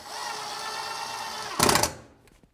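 Power driver running steadily as #8 by 1.5 inch screws are driven into the wall jamb of a sliding door during installation, a sustained whir for over a second and a half, then a brief louder burst before it winds down.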